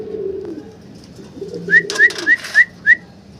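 A large single Mundian pigeon gives five clear coos in a steady rhythm, close and prominent, over a low murmur of background sound.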